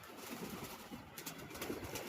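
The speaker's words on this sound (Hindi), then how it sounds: "देखो ये कबूतर बाहर निकले, मस्त अपना ऊपर नीचे करते हैं" Pigeons give soft, low, breathy coos against a dull constant background, faint and close, with no one speaking.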